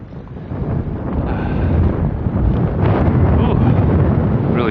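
Strong wind buffets the microphone outdoors on a hill in a loud, continuous roar with gusting swells throughout.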